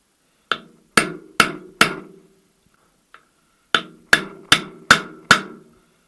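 Sharp metallic taps of a mandrel driving a gearbox input shaft seal into a VAZ 2108-2115 manual transmission case: four evenly spaced hits, a pause with one faint tick, then five more hits, close and clear with nothing else heard.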